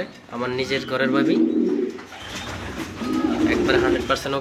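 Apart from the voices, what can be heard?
pigeons cooing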